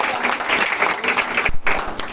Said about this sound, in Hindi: अब बिग राउंड ऑफ अप्लॉज एक बार जोर से ताली बजाइए।